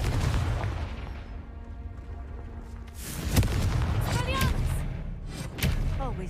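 Spell explosions from a Confringo fireball in the game Hogwarts Legacy, several sharp booms and thumps bursting over a busy game soundtrack, with a voice talking through it.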